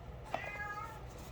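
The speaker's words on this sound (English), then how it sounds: "You might hear my cat in the background" A cat gives a single short meow, faint and somewhat distant, over a quiet indoor room hum.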